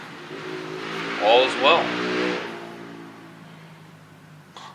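A Kawasaki STX 15F jet ski engine cranks briefly on its starter with a short burst of whirring noise. Someone talks over it.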